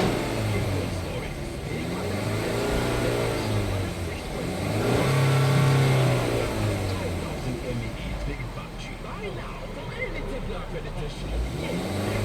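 A 2013 Chevrolet Equinox engine with a total misfire across cylinders 1 to 4 runs close by, rising in a rev around the middle and then settling back to an uneven, rough idle.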